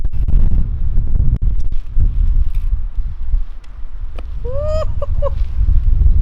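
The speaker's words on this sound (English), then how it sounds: "But it's ridiculously windy." Strong wind buffets the microphone with a heavy, continuous low roar, and a goose honks a few times near the end.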